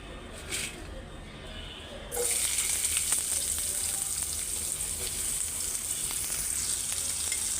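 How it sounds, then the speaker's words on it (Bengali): Spice paste (masala) sizzles steadily as it fries in a pan; the hiss starts abruptly after a quiet moment and then holds a constant, close, even level. "মশলাটা কষাই ফেলছি।"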